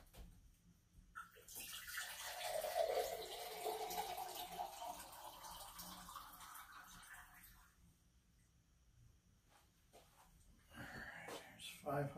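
Distilled water pours into a large 5,000 ml glass beaker in a steady, close splashing stream for several seconds, then tapers off, with a quiet voice speaking in the pauses.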